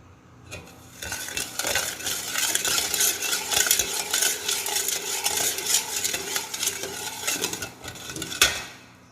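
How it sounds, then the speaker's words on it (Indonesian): A spoon stirs agar-agar pudding mixture with sweetened condensed milk in a pot, producing repeated scraping and clinking strokes in an uneven rhythm that build after a quiet start, with no voices. "kemudian masak kembali agar-agar terus diaduk"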